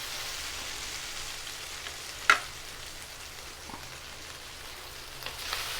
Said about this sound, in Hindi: प्याज का टेक्सचर चेंज हो गया, हल्की हल्की हमारी सब्जियां भी सौटे हो गई हैं।